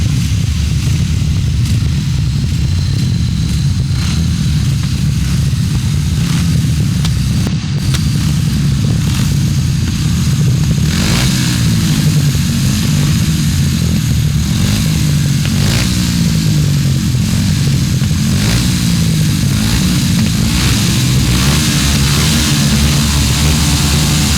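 Grasstrack racing motorcycles roar past during a 2003 international grand slam race. A dense, continuous engine drone holds for the whole stretch, loud and close, with no voices.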